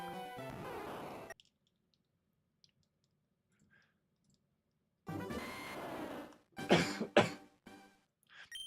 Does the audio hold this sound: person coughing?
yes